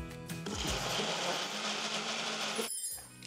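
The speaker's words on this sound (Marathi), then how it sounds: "झाकण लावायचा, पाण्याचा अजिबात वापर न करता याची प्युरी किंवा पेस्ट करून घ्यायची" An electric mixer grinder purees a cooked onion-tomato mixture with salt and no added water: a loud, steady motor whir and churning roar that runs for a couple of seconds, then cuts off abruptly.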